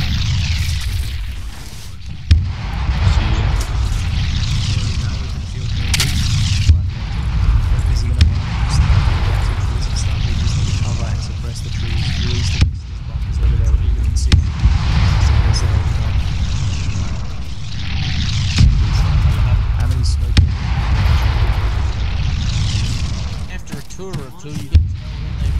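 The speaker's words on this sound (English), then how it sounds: "Artillery, get down." Artillery fire in the Arma 3 video game: heavy, repeated booming blasts at irregular intervals over a loud, rumbling low-end background, with players' voices talking over it.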